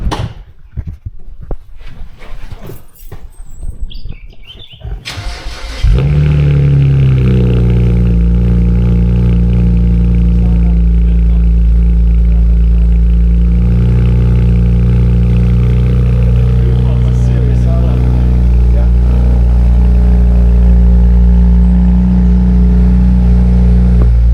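A car engine cranks and catches, then settles into a loud, steady idle close to the exhaust, rumbling continuously with a deep, even drone.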